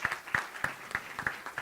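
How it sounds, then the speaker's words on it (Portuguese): Sparse, spaced claps from a small audience at a law seminar panel, thin and irregular, about a handful of distinct hand claps over less than two seconds. "Uma salva de palmas para os dois."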